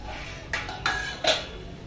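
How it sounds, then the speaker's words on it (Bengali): A metal lid lifted off a cooking pot of boiling chickpeas and banana peel, giving a few sharp metallic clinks and scrapes close by, with no talk. "ঢাকনাটা খুলে দেখবো এবারে।"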